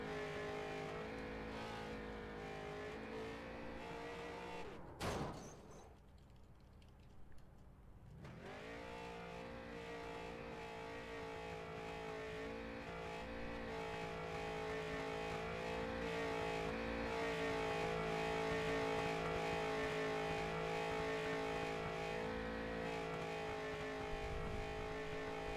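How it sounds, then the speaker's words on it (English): The number 48 street stock race car roars through a victory burnout on the track, a sustained loud revving engine drone that briefly cuts out, then builds again to a steady, harsh howl. "Jordan Babinger does a well-deserved victory burnout in the number 48 machine"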